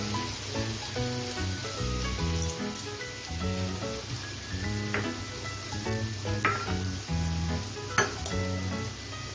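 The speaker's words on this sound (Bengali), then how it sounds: "এখন পোস্তটাকে 2 থেকে 3 মিনিট কষিয়ে নিচ্ছি, গ্যাসটা মিডিয়ামে রেখে।" Poppy seed paste sizzling steadily while being sautéed in a pan over medium heat, with occasional clinks of a utensil against the pan and background music under it.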